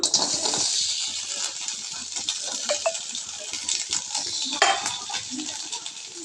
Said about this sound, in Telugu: పచ్చిమిరపకాయలు బాగా ఫ్రై కావాలి